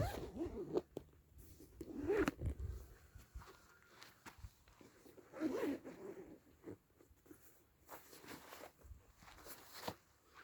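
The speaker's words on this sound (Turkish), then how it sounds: "İki tane fermuarı var." A zipper on a Prologic Tri-Sky carp fishing rod pod bag is pulled open in several quick rasping bursts, with soft handling rustles and shuffling between them.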